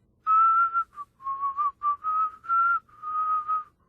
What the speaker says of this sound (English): and began whistling